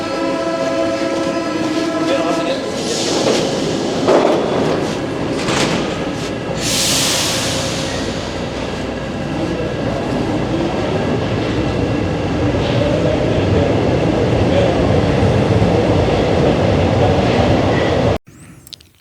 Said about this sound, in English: a 44-second hyperlapse video of me walking out of the metro station